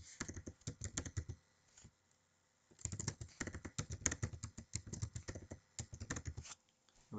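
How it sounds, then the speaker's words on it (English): A password is typed on a computer keyboard in two quick bursts of crisp, close key clicks separated by a short pause. "I've typed the password twice."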